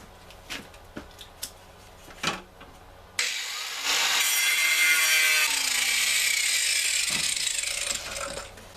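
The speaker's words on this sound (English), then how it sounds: "I grabbed my plasma cutter and I nicked all the way around here" A plasma cutter slices around the outside edge of a mud mower transmission case in a shop, starting abruptly as a loud, steady hissing roar that holds for about five seconds after a few scattered knocks, then tapers off.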